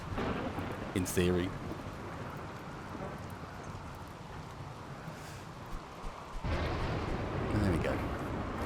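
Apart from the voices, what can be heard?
rain and thunder in the video game RimWorld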